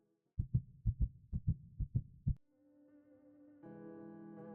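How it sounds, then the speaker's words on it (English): A heartbeat sound effect thuds in about five paired lub-dub beats, deep and close, then gives way to a low sustained musical drone that swells near the end. "my heart pounding in my chest"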